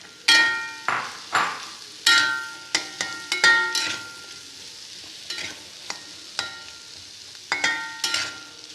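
Two chopped onions hit hot oil tinted with Kashmiri chili powder while cooking chilli egg. A spoon stirs and scrapes the pan in repeated sharp strokes over a soft, steady sizzle.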